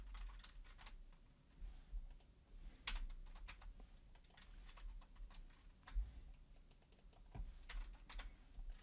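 Keys tapped on a computer keyboard while a password is entered in a video game, a quick irregular run of sharp clicks in bursts across several seconds, close and fairly quiet, with no talking.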